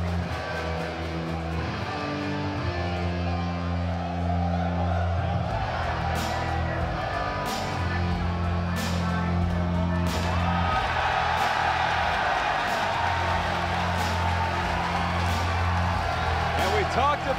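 A wrestling arena crowd roars loudly and steadily as the Bullet Club enters for a 10-man war main event. Music plays over the crowd and a commentator talks on top of it.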